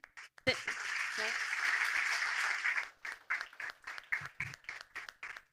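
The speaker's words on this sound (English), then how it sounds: "A round of applause to everyone." Audience applause fills the first few seconds with dense clapping, then breaks into scattered, fading claps toward the end.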